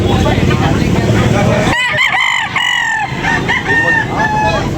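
A rooster crows loudly and close at a busy chicken market, with clucking and crowd noise around it and people talking nearby.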